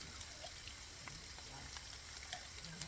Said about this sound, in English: Start frying.